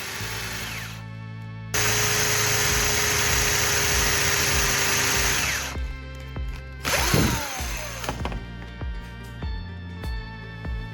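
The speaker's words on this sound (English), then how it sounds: "Now I'll drill the hole wider so I can insert the spark plug base into it." A power drill runs steadily, boring a hole through a piece of wood to fit a spark plug base. The loud, continuous whine cuts off, then restarts with brief bursts and clunks.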